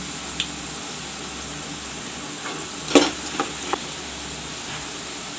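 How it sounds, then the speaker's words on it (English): Onions frying brown in a pan give a soft, steady sizzle throughout, with a few faint stirring clicks and scrapes near the middle; no one speaks. "I will let the onions fry brown"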